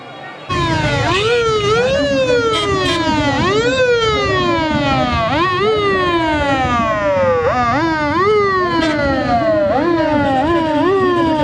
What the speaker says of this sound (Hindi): ये बाइक वाले सारे साइड पे आ जाएं एम्बुलेंस को रास्ता दें